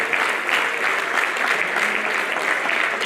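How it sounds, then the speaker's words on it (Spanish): A hall at a mountaineering federation awards gala fills with warm, sustained applause from many people, steady and fairly close, with no voices over it. "Fortes aplausos novamente."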